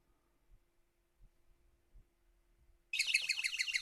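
A smart water leak sensor alarm starts suddenly after near silence, a rapid series of high-pitched electronic beeps pulsing steadily, loud and close.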